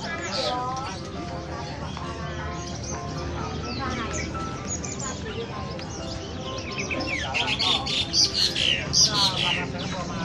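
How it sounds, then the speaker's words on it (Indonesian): Caged birds at a busy bird market, dense chirping and tweeting that grows louder and more rapid toward the end, under crowd chatter and nearby talking. "Jadi di sini banyak banget guys yang jualan burung."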